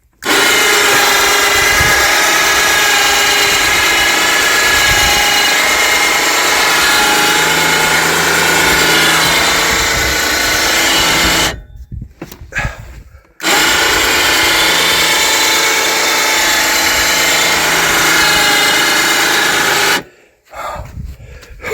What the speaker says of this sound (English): let's get the winch going and get out of here